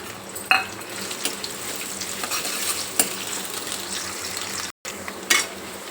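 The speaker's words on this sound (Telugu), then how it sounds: "2 టేబుల్ స్పూన్ల నూనె వేసుకొని ఒక ఉల్లిపాయ పెద్దది కట్ చేసుకుని పొడవుగా కట్ చేసుకొని వేసుకోవాలి." Sliced large onion frying in two tablespoons of oil for egg fried rice, a steady close sizzle with occasional stirring clinks and scrapes and a brief dropout near the end.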